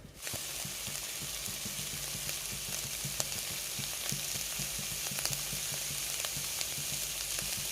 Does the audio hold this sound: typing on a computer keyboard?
no